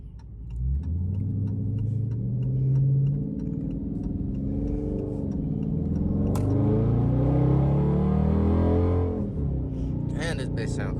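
A Dodge Charger Scat Pack's engine heard from inside the car: a deep, close rumble that swells as the revs rise, eases, then climbs again, with a voice briefly audible over it.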